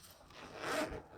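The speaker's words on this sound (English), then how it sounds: "now all I have to do is close my zipper" A zipper being closed on a sewing project, one quiet, smooth rasping pull that swells and fades over about a second, close by with no talking.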